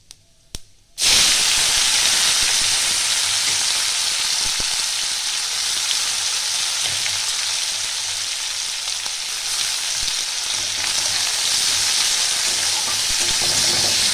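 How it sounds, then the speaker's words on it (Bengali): Cumin seeds and large pieces of chopped onion fry in hot oil, a steady close sizzle that starts abruptly after a second of near silence and continues loud and unbroken with faint stirring scrapes. "জিরেটা একটু ভেজে নিতে হবে দিয়ে দেবো একটা পেঁয়াজ কুচি বড় সাইজের"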